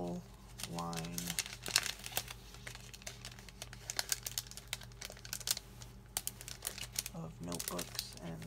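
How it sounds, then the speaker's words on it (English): Sheets of Office Depot stickers being handled and crinkled up close, quick papery rustles and crackles in bursts, with a voice talking over part of it. "these are some stickers I got at Office Depot that are from the Tool line."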